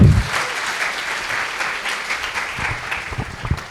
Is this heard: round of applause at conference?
yes